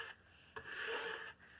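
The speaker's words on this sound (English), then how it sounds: "I like the look of scraping with a card." Paint scraped with a card across a wooden board, giving a dry, raspy rubbing stroke that rises, holds for about three quarters of a second and fades, close and fairly quiet with no talk.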